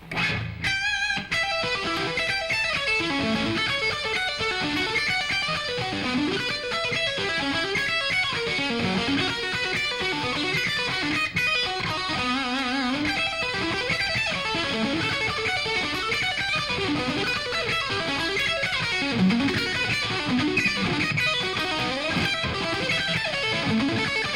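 Electric guitar played fast with added distortion: a continuous stream of rapid picked notes with a thick, saturated tone, loud and steady for the whole stretch with no talking.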